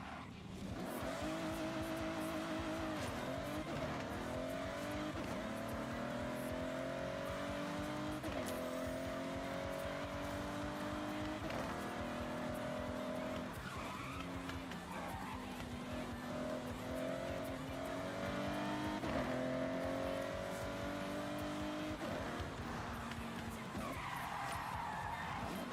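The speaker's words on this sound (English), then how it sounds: "Nissan GTR 2012, and it's tuned." A tuned 2012 Nissan GTR racing in Forza Horizon, with a continuous engine roar that rises and falls through gear changes and repeated tire squeals and skids, loud throughout.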